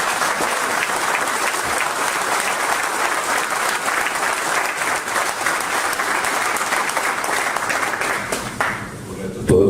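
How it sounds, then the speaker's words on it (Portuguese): Dense, steady audience applause at an evening talk at the Clube dos Pensadores, a full room clapping continuously and loudly before tapering in the final moment. "Agradeço ter uma salva de palmas aqui bem forte."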